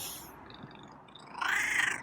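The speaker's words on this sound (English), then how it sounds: "got a meow purr" A feral cat's meow rises near the end, with a soft, low purring rumble running faintly beneath during grooming; no talking.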